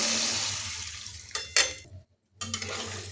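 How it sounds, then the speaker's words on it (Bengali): Water poured into a pan of oil-fried potatoes and pointed gourd, giving a splashing hiss over steady sizzling, a short bright pour, a brief near-silent gap, then the sizzle and bubbling resume. "এখন এর মধ্যে দিচ্ছি জল।"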